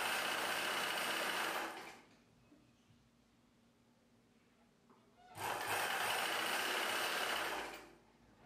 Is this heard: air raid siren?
no